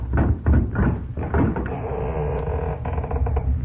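A door rattles and knocks open with wooden thumps and creaks, followed by a steady muffled rumble, fairly close.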